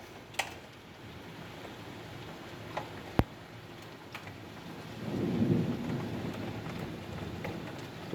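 Hailstorm in Sydney: soft, faint patter of falling hail and rain, broken by a few sharp isolated cracks of impact, with a swelling low rumble of heavier downpour in the second half.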